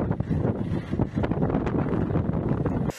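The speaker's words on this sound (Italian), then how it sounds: "mostrano gli effetti della tramontana che ha soffiato costantemente facendo registrare raffiche fino a 90 km orari" Strong tramontana wind gusting up to 90 km/h, a dense roaring rush buffeting the microphone continuously at close range before cutting off abruptly.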